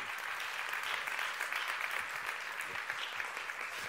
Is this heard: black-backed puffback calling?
no